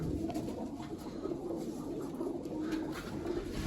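Pigeons cooing softly and steadily on a rooftop loft, a continuous low murmur of overlapping calls without pause.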